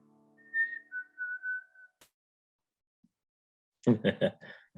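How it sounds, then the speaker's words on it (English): A short, clear human whistle, a bright sliding tone, followed after a pause by a brief burst of nearby talk. "End with a little whistle."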